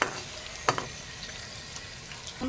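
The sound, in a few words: frying ivy gourd (kundoli) in a pan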